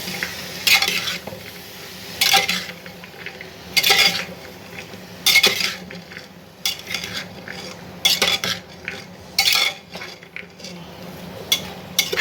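Lentils and spices being sautéed and stirred in a pot for a jackfruit-seed and taro-stolon dal, with repeated loud scraping strokes of a metal spoon against the pot over a low sizzle, spaced every second or two.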